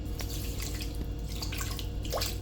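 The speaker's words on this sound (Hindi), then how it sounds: "एक बर्तन में 2 कप चीनी लेंगे और 1 कप पानी डालेंगे" Water runs into a pot of sugar as sugar syrup is started in a home kitchen, a steady trickling splash with small drips, fairly close over a low background hum.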